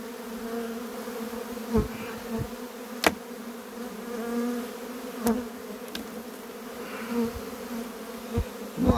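Honey bees hum around an open hive in a steady, close drone, with individual bees buzzing louder as they fly past.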